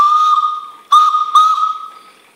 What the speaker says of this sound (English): Let's try this whistle, it should be fantastic.